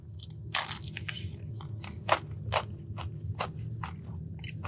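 Close crunchy bites and chewing, a series of sharp crackling crunches at an uneven pace over a low steady background hum.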